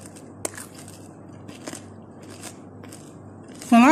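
Crispy fried potato wedges crack and crunch as they are broken apart by hand, a few sharp snaps spread out in a quiet kitchen, with a brief voice starting at the end.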